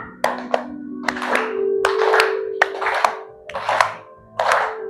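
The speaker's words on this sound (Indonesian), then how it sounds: "sambil tepuk tangan" Children and adults clap hands in a rhythmic pattern along with a sung Christian children's song, with bursts of clapping between sung lines, close and fairly loud.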